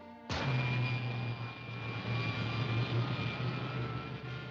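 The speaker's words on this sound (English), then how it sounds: "Fire pilot jets." Pilot jets of a rocket suit firing in a 1950s Commando Cody science-fiction serial: a sudden ignition followed by a steady, loud roaring hiss with a low hum underneath, sustained with no speech.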